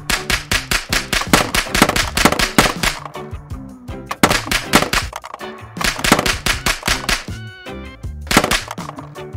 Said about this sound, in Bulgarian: Време е да покажете как можете да стреляте.